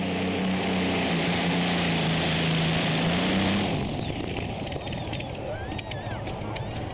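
Pulling tractor engine roaring at the 2015 Eurocup Tractor Pulling event in Brande, Denmark, a loud sustained drone that shifts and fades as it heads away, with a commentator talking over it.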